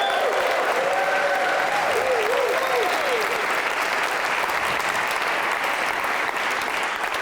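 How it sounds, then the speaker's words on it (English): Sustained audience applause for three jazz musicians at an organisational-flourishing event, a steady dense clapping that fills the whole stretch, with a voice briefly rising above the crowd near the start. "let's have a big round of applause for these three amazing musicians, Mr. Benny and Mark."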